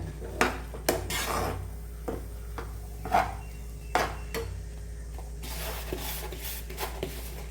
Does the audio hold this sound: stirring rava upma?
yes